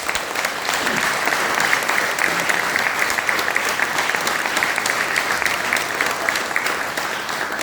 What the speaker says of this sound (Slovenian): Dajmo jim velik aplavz.